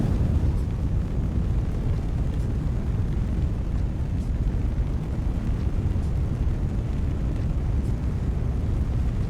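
A rocket blows apart during staging in the video game Kerbal Space Program 2, heard as a loud, sustained, roaring rumble that fills the whole stretch without letup and with no talking.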